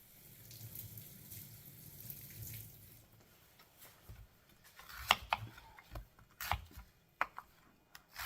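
White onions, peeled, rinsed under running water from a kitchen tap, a steady stream at first and then irregular splashes and clinks as the onions are handled, close and quiet with no speech.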